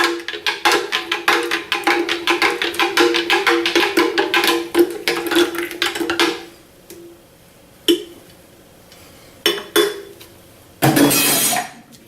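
Home-brewed beer wort being aerated in a fermenter, a rapid run of sloshing, clinking splashes for about six seconds, then scattered brief knocks and a louder rustling burst near the end.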